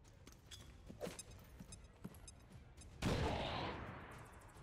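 A grenade goes off in the video game XCOM 2. A few scattered thuds and clicks come first, then a sudden loud blast with a rumbling, slowly fading tail that fills the final second and a half.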